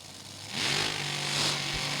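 Top Alcohol Dragster engine held at high revs at a drag race, a loud, distant roaring rumble that swells in two waves over a constant crowd-like wash.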